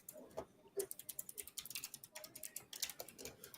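Rapid typing on a computer keyboard, a quick irregular patter of clicking keystrokes at close range with some faint voices mixed in.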